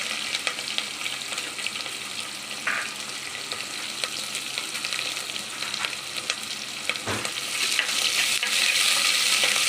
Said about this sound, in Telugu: దీని ఒక హాఫ్ మినిట్ ఫ్రై చేసుకుందామండి